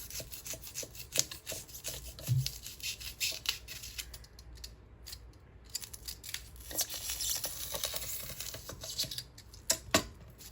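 Styrofoam pieces being gently cut apart by hand: quiet, close, repeated rasping and squeaky scraping strokes with short pauses between them, heard alone.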